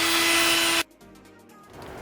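A loud, hissing power sander runs briefly on a Mitsubishi Evo X GSR headlight lens, then cuts off abruptly, leaving a quieter scraping and faint hum.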